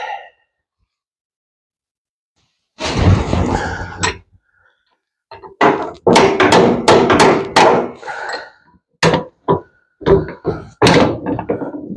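Heavy hammer blows strike the alternator on a Farmall Super M tractor, landing as a long burst and then a run of loud, close, irregular metallic thuds and knocks after a quiet start.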